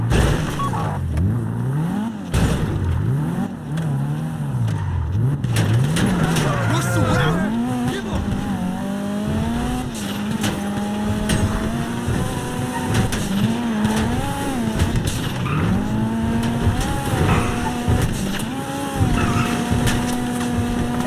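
A Kuruma car is driven in GTA V Online during the Fleeca Job heist, its engine droning loudly and continuously as the pitch climbs and falls with revving and gear changes.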